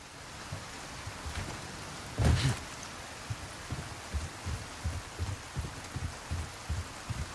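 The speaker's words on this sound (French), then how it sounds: "Une pluie, mais c'est pas possible, ça." Rain in the Resident Evil 4 video game, a steady broadband hiss with a heavier burst just after two seconds and soft rhythmic low thumps running underneath, with no voices.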